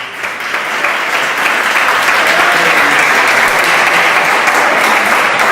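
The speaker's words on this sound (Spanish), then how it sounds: "Denle un fuerte aplauso, que Él vive." A church congregation gives a loud, sustained round of applause, dense and steady from start to finish with no voice on top.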